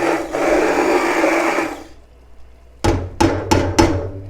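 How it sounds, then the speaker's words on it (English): A regular blender whirs through bolognese meat sauce for under two seconds and cuts off, followed by four hard knocks spaced evenly apart. "you could also use just a regular blender. Just throw it in there for a second"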